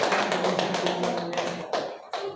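Classroom applause from a group of students, a dense patter of many hands clapping together close by, gradually thinning out toward the end with a few last claps.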